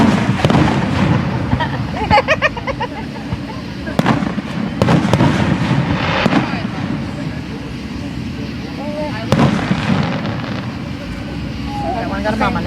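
Fireworks boom and crackle outdoors, with sharp bursts repeating every few seconds over a steady crowd rumble, while people talk nearby throughout.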